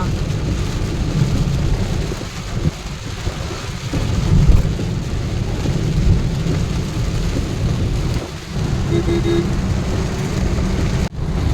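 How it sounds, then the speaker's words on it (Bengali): Very heavy rain pours in a dense, steady roar, heard from inside a vehicle behind glass, with rumbles of thunder and brief louder surges throughout. "প্রচণ্ড জোর বৃষ্টি হচ্ছে"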